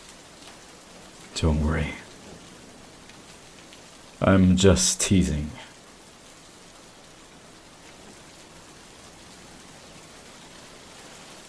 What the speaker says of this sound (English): The rain is loud.